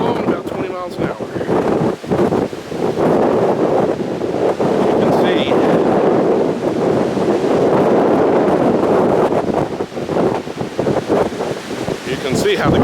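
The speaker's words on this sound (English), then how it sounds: "Apologies for the wind" Strong wind of about 20 miles an hour in a dust storm buffets the microphone in a loud, continuous roar that gusts and rumbles throughout, with faint voices underneath.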